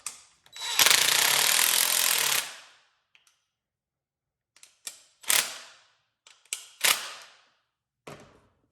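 A loud power drill whirs steadily for about two seconds driving a self-tapping screw, followed by several short, sharp bursts of the same motor, close by and with no talking.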